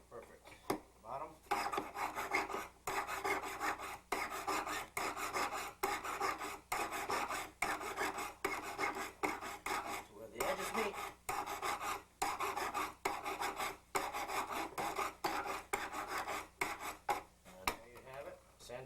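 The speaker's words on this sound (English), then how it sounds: "File it down to the edge meets." A jeweler works a hand file across a gold ring in a close, dry rasping rhythm of repeated strokes. Short pauses fall between the strokes, and there is no talk over the sound.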